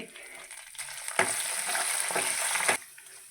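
Curry leaves dropped into hot oil in a pan with star anise, cardamom and fennel for mint rice, a sudden loud crackling sizzle that swells and holds for about two seconds before easing off.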